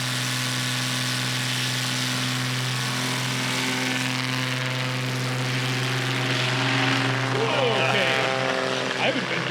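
A STOL plane taking off at the Music City STOL competition, a loud steady propeller-engine drone with a strong low hum that rises and shifts in pitch near the end, with a commentator's voice talking over it.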